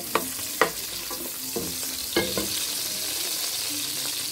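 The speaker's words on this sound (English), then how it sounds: "so right now i'm going to be adding my onions to it as well then i stir" Onions fry in oil for Nigerian fried beans, a soft constant sizzle beneath scattered scraping knocks of a spoon stirring the pan, several sharp clicks in the first half, quieter afterward.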